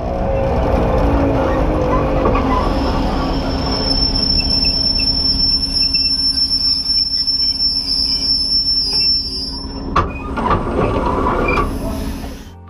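ER2 electric train braking with brake shoes at low speed, wheels giving a loud, sustained metallic squeal over heavy rumbling, with a piercing high tone that cuts off near the end.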